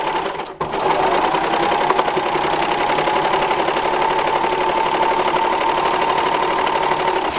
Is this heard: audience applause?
no